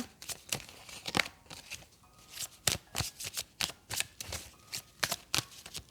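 Tarot cards being shuffled by hand during a love reading, with repeated crisp riffling bursts in an irregular rhythm, close and moderately loud with no talking.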